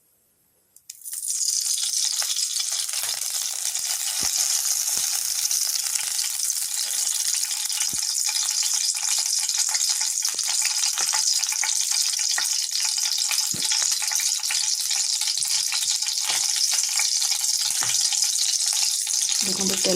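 Two spoonfuls of oil heating in a pan for Odia-style egg kurma, giving a loud, steady, continuous sizzle that starts abruptly and holds throughout, with faint stirring clinks.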